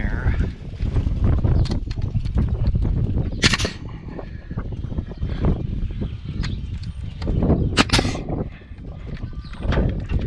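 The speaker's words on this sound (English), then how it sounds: "here comes the wind, perfect timing" Outdoors during a gazebo build, wind gusts rumble and buffet across the microphone in loud, uneven surges, with people talking intermittently and a couple of sharp taps.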